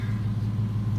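A 2000s VW R32 MKIV engine idles cold inside a garage, a steady low throbbing rumble, close and even, with no talking.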